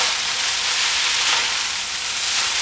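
Flat rice noodles with chicken and dark soy sauce being stir-fried in a hot pan for Cantonese chow ho fun, giving a steady, loud, close sizzle throughout with no talking.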